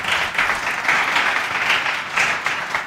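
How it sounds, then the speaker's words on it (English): Quick round of audience applause at an investment conference as a guest comes on stage, a lively, rhythmic patter of many hands at moderate loudness, without voices over it. "Just give him a quick round of applause."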